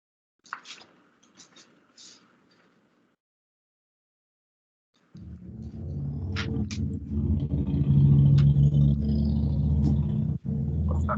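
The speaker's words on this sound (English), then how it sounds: "That sounds like a truck somewhere." A truck or motorcycle passes somewhere outside, starting as a low rumble halfway through and swelling to a loud, sustained roar, heard after a few soft indoor noises.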